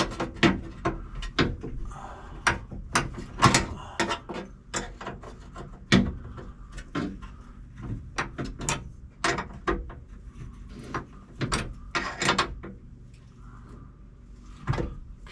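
Tightening a part on the wing window of a 1972 Nova gives a close, irregular run of dry clicks and clacks from tools and metal hardware, steady throughout with no talking.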